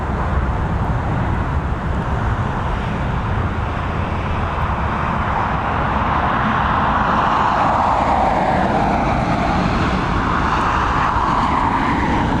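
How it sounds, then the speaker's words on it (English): A plane lands at Dublin Airport: a steady, broad jet engine roar heard from a distance, holding level throughout with a slowly shifting pitch and no voices. "We may as well pick up the final stages of this landing as well."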